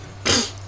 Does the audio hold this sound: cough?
yes